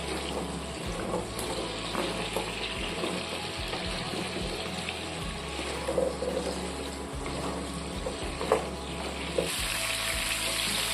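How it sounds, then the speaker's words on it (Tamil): Moringa drumsticks sauté in hot oil for a drumstick thokku, giving a steady, close sizzle that runs throughout under a low hum, with occasional soft stirring bumps and no voices. "முருங்கைக்காய்களை சேர்த்து எண்ணெயில நல்லா வதக்கிக்கிறோம்."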